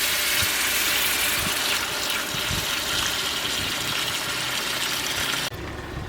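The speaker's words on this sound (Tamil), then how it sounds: "இந்த டயத்தில் எலும்பு வேக வச்ச தண்ணியை ஊற்றிக்கிறலாம்" Beef bone broth poured into a pot of curry, a continuous gushing splash of liquid that runs steadily at close range and then cuts off sharply near the end, with no talking.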